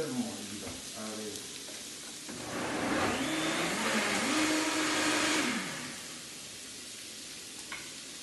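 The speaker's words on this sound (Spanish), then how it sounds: "Y vamos a moler esto finalmente, que nos quede" A blender grinds a fruit mole sauce, its motor rising to a loud whirring roar for a few seconds in the middle and then winding down, close by, with a brief voice at the start.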